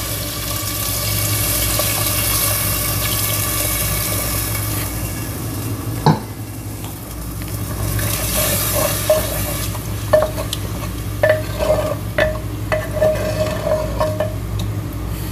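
Tamarind juice poured into okra curry simmering in a clay pot over a medium-high stove, a watery sizzle and bubbling with a sharp knock and several short scraping stir taps, no voices.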